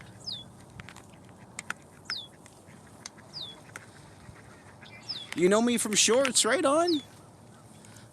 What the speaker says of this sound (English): Can you hear the duck quacking in the background?